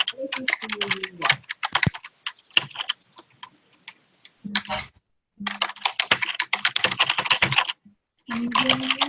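Rapid computer keyboard typing in bursts of clicks with short pauses, close and fairly loud, while people speak intermittently over it during an online meeting.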